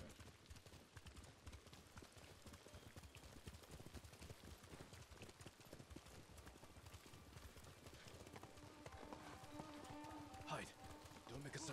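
A horse gallops in the video game Ghost of Tsushima, with steady rapid hoofbeats running throughout at moderate volume and a voice talking over them.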